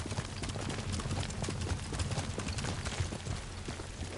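A horse gallops hard in Ghost of Tsushima, its hoofbeats a fast, loud, rhythmic clip-clop running without a break from start to finish, with no voices.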